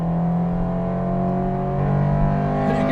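A close, loud Acura Integra Type R engine revs hard at high rpm with a steady rising whine that shifts pitch near the end as the car changes gear.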